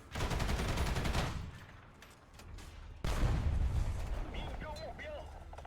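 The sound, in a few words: tank gun firing in a video game, Object 490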